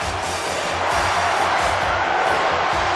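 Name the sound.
video game crowd chanting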